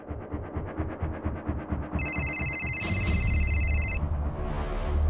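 A telephone rings after a call is placed in a Crime Patrol TV crime drama: a bright, electronic ringtone about two seconds long cuts in over a rhythmic, ticking musical background that continues after it stops.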